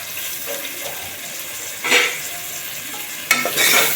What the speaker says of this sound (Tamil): இதை நல்லா டேஸ்ட் ஆகிற அளவுக்கு வதக்கணும்.